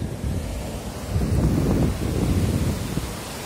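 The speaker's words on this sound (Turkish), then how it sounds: "Tam karşımızdan rüzgar ve akıntı" Strong wind buffets the microphone in low rumbling gusts, with surf washing in the background on the sea shore at Pamucak while surfcasting.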